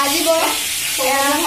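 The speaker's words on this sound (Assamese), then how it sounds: "আজি আমাৰ আইতাই মাছ ফ্ৰাই কৰি আছে" Fish fries in a pan with a loud, close, continuous sizzle and a few faint tonal squeaks, while a voice murmurs quietly in the background.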